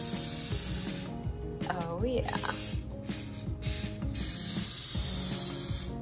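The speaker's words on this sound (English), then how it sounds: "we're using our favorite, the coconut oil spray, because it's nice and sweet" Coconut oil cooking spray hisses in short bursts as a cake tin is greased, heard over steady background music, while a person briefly speaks.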